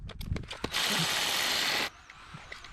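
A ratchet with a deep well socket turns a nut on a 1988 Foxbody Cougar, first a few quick clicks and then one steady, close, loud buzzing burst of about a second, followed by quieter faint clicks.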